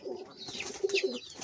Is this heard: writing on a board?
no